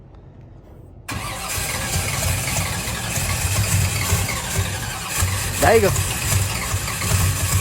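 A truck engine fires up after a second of near silence and settles into a rough, rumbling idle as it warms, with a brief rev partway through and people talking over it.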